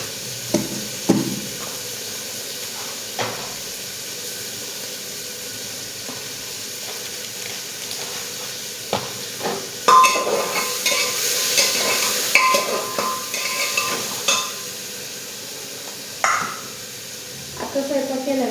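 Food is stirred and fried in a pan at home, with soft sizzling under scattered scrapes and clinks of a spoon against the pan, close by, while someone talks at times.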